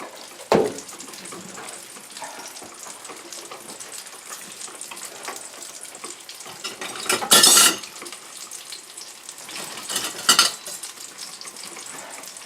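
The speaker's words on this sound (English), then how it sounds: "And then I just stir this until it thickens." White sausage gravy made with milk being stirred in a pan, a soft continuous scraping and bubbling sizzle with a few sharper clinks of the utensil against the pan.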